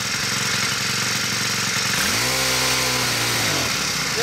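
Poulan gas pole saw engine running lean, a loud steady buzz that bogs and drops in pitch partway through, then sputters as it struggles.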